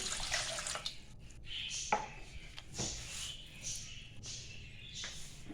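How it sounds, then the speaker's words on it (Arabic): Hot water poured into a bowl for whole-wheat bread dough, a soft watery trickle with splashy bursts and brief gaps over a few seconds, fairly quiet and close, with no talk. "غادي نجيب واحد الاناء، غادي ندير فيه ميها سخونه"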